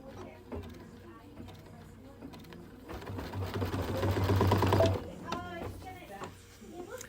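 A Solaris/Luminaire embroidery sewing machine stitches an edge-to-edge quilt design with a fast mechanical whir that swells for a couple of seconds, then stops. Quieter clicks and handling sounds come before and after.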